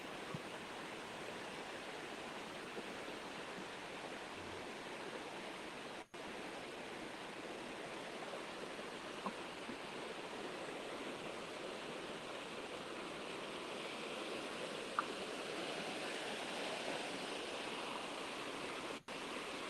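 Fast-flowing stream water making a steady, even rushing hiss that holds for the whole stretch, moderately faint and close, with no talking.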